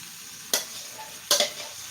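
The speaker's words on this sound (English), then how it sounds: "We turn the sausage and add most of the parsley, stirring to bread." Sausage and parsley fry in a pan under a low, steady sizzle, broken by two brisk scraping stirs of a utensil against the pan.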